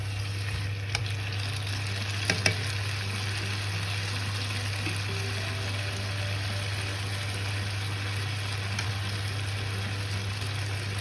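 Green beans and tomatoes stir-fry in a pan with a steady, moderate sizzle, punctuated by a few sharp clinks and scrapes from stirring, alongside a low constant hum from the stove or hood and no speech.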